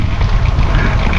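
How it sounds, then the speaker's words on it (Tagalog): Strong wind buffets the microphone during a Friday group bike ride, a loud, continuous low roar with gusty turbulence filling the whole moment, with no clear speech over it. "grabe yung hangin"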